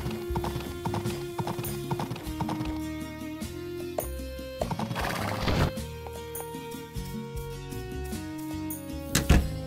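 Horse riding in the farming video game Story of Seasons: Pioneers of Olive Town, with steady clip-clop hoofbeats and neighs over a light musical background, clear and close throughout.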